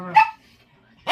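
A German Shepherd puppy lets out one short, sharp bark up close, then a near-silent pause before a second bark starts at the very end.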